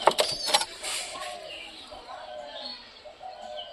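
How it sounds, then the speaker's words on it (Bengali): A pigeon in a home coop gives a few low, soft coos at close range, with wing and cage rustles and a faint voice nearby. "ডাকাডাকি করবে পায়রাটা"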